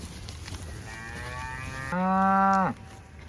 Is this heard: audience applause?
no